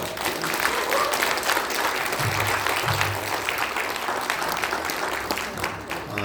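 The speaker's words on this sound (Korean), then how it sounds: "박수로 환영하겠습니다." An audience at a political party's election launch ceremony breaks into loud, dense applause to welcome a speaker, a sustained wash of many hands clapping with brief low crowd murmur partway through.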